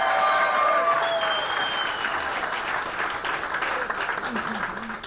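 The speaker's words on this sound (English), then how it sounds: "We clap now. Everybody's clapping." Applause fills an Equality Florida gala hall in Broward, loud and dense at first and gradually thinning, with a few whistles and voices cutting through the clapping.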